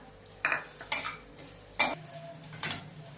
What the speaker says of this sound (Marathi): त्याचमध्ये खसखस भाजून घेऊया